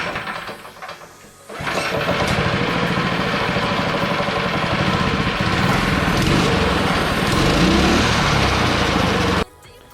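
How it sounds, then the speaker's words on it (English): A small motor on a budget drift trike sputters to life after a brief pull, then runs at a steady, loud, buzzing idle for several seconds before cutting off abruptly. "for now you'll see the motor run"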